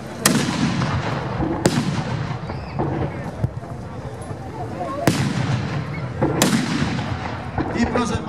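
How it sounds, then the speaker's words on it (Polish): Cannon at a Battle of Racławice reenactment fire outdoors in several loud, sharp booms, each followed by a rumbling tail, over a constant crowd and field noise with talk in the background. "naczelnik Kościuszko, widząc, że wszystkie armaty rosyjskie wypaliły, wydał rozkaz"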